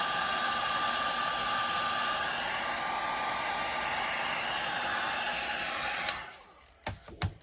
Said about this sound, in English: It was actually really tight, so we'll just shoot a little bit of heat on it.